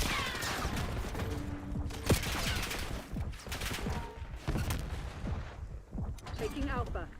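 Gunfire in the Black Ops 6 video game, with bursts and single shots cracking at irregular intervals amid game noise and occasional brief voices.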